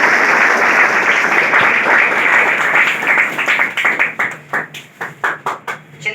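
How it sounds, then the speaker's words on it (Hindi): An audience at a school prize distribution for class 10 students in Kurtha claps loudly, a dense burst of applause that thins into scattered individual claps toward the end. "जोरदार ताली बजाएगा"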